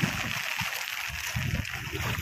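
Heavy floodwater rushes and sloshes after torrential rain, a steady close wash of churning water with low gurgling surges throughout.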